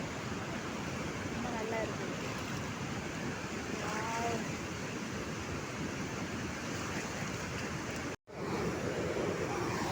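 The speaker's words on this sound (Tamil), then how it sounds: "நீர் வீழ்ச்சி மாதிரி நல்லா இறங்குது" Water pours down the Mettur Dam like a waterfall, a steady, loud roar of rushing, spraying water with wind buffeting the microphone and a brief dropout near the end.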